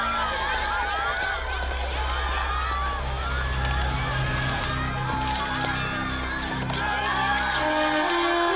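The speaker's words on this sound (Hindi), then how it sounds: "ये भीड़, ये शोर, ये खेल के पहले के कुछ पल हर खिलाड़ी के लिए बहुत एक्साइटिंग होते हैं" A large crowd roars and cheers continuously before a tennis championship final, with shouts and whoops rising over a dense, steady wall of noise and a voice speaking over it.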